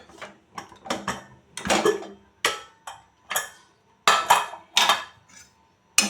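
A pressure cooker's lid being opened after cooking chicken masala curry makes a quick run of close, sharp metallic clanks and scrapes, separated by short silences.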